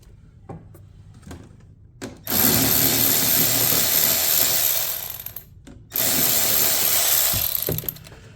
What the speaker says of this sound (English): And we need to release the other bolts here.